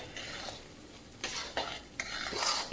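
Flour being dry-roasted and stirred in a pan over low heat for linseed pinni, with soft scraping strokes and faint sizzling in irregular bursts, close and fairly quiet.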